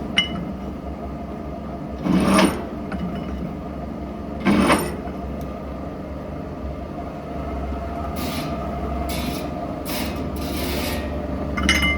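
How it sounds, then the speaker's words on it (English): A variable-speed drill press countersinking holes hums steadily, running fast at its slowest speed, with a grinding, rasping whir, broken by two brief louder cuts and a few sharp scraping bursts near the end. "This drill's running a little bit fast."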